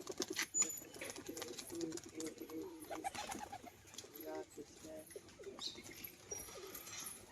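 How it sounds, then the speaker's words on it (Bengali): Pigeons coo in a loft where two hen pigeons with lightly feathered feet are kept, low throaty coos repeating over a busy backdrop of fluttering and chirps, with faint voices now and then. "দুটো মাদি পায়রা, দুটোরই হালকা পায়ে মোজা আছে"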